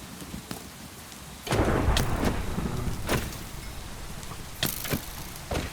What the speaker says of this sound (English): Can the rain stop?